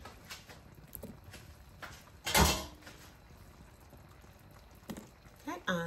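Dry spiral pasta dropped into a pot of boiling water, with one brief rattling splash over a low bubbling background and a short voice near the end.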